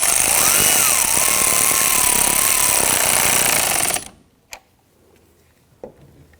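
A power ratchet tightens the battery ground terminal nut on a Hyundai Elantra with a loud, continuous buzzing whir lasting about four seconds, then stops, leaving a couple of faint clicks.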